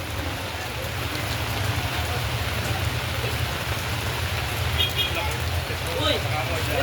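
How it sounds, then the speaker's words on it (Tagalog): Steady, dense rainfall hissing evenly throughout, with a faint voice briefly audible beneath the downpour. "Ulan."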